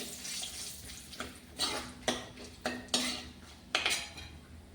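A spoon stirs spices, curry leaves and red chillies in a pan, making a series of distinct metal scraping and clinking strokes, roughly one every half second, close and unaccompanied by talk.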